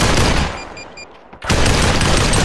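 Dense, loud gunfire from the VR game Population: One, heavy bursts of shots filling the sound, breaking for a brief lull before a fresh burst resumes.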